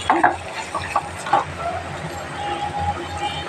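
Vegetable curry stirred in a pot, a spoon scraping and clinking in soft irregular strokes against a faint simmering background, with no voices.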